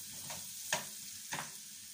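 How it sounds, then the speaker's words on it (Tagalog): Mushrooms frying in a pan with a faint hiss, and a spoon stirring them in two distinct scrapes. The sound is close but quiet, with no voices. "Haluin po natin. Haluin hanggang sa maluto."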